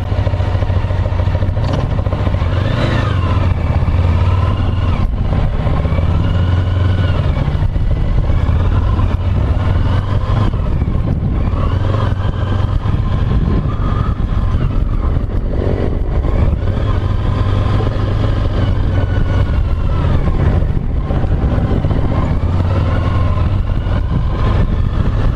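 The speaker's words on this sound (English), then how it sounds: "Check out these small bikes." Small motorcycles running laps at a Talladega Grand Prix Raceway track day, a steady loud engine drone with revving pitch sweeps passing close and fading, continuous throughout with clattering in the background.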